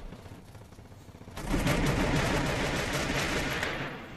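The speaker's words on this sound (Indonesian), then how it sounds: "Shotgun lagi." Shotgun fire in the Free Fire game: after a quieter start, a loud, sustained burst of rapid, closely spaced shots erupts and carries on for a few seconds before easing off.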